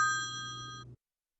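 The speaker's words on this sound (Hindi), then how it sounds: "अम्मू फोन बज रहा है, मामू की कॉल है दुबई से।" A phone rings indoors with a single electronic chime, a steady bright tone lasting just under a second before cutting off into silence.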